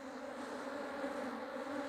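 Honeybees buzz in a dense, steady drone as a frame full of bees is shaken into nucleus hive boxes while a colony is split, an even hum close by and with no voices.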